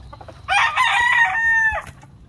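A rooster of a fighting-cock breed crows once, close and clear, a single drawn-out call lasting over a second against quiet background noise.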